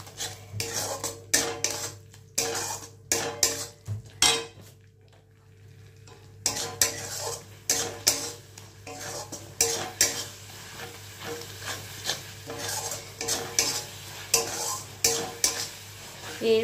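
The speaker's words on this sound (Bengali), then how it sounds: "মশলাটা বেশ অনেকক্ষণ কষিয়েছি আমি, রসুন আর পেঁয়াজটাকে ভালো করে কষিয়েছি" A spoon stirs and scrapes masala with garlic and onion in a pan, with repeated clinks of utensil on metal over a steady low sizzle of frying, close and moderately loud, pausing briefly before the stirring resumes.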